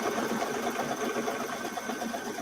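A home embroidery machine stitches a Christmas quilting block on sticky stabilizer, its needle buzzing in a fast, even mechanical rhythm, close and steady with no talk.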